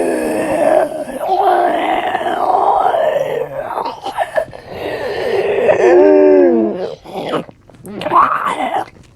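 A person's voice imitates zombies, making wheezy, strained groans and drawn-out moans mixed with guttural growls, close and loud in several sustained bursts with short pauses between them.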